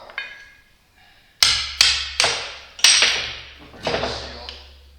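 Five sharp metallic hammer blows knock a seal out of a Vickers V45 single vane pump, loud close impacts in an uneven rhythm, each ringing briefly before decaying.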